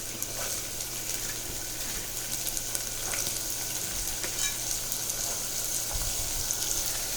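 Chopped cluster beans and ridge gourd fry in a hot tempering of carom seeds and asafoetida. The sizzle is loud and continuous, with the occasional clack of stirring.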